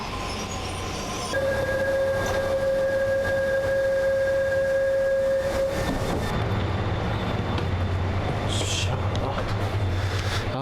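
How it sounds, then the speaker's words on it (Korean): A Korean ITX-Saemaul train rolls into a station, a steady loud rumble with a long high wheel squeal and faint voices in the background. "ITX 새마을이 들어오고 있네요"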